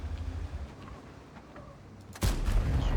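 Gunfire from an ABR rifle in a multiplayer shooter video game, a few quieter shots followed by a sudden loud burst in the last second, with dense booming low end.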